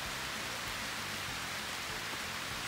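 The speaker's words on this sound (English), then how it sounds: "Can you hear the rain? We are sitting in the rain right now." Steady rain falling outdoors during a thunderstorm, a soft continuous hiss of drops with no breaks, faint and even throughout.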